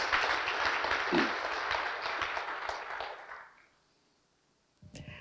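Forum audience applause rises in a dense wash of clapping, fades out after about three and a half seconds into near silence, then a voice begins speaking.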